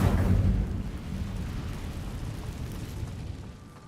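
A fiery Incendio spell bursts out in Hogwarts Legacy: a loud, booming blast up front that settles into a rumbling, crackling roar over the next few seconds.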